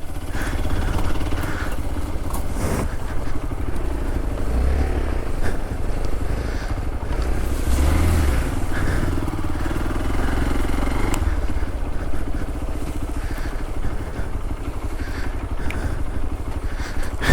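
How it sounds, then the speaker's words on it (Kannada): A motorcycle rides an offroad footpath with its engine droning loudly and steadily throughout, and rattles and bumps from the rough track come through the noise. "ನಾವು ಬೈಕ್ ಹೋಗ್ತಿದ್ದೇವೆ ಅದರಲ್ಲಿ."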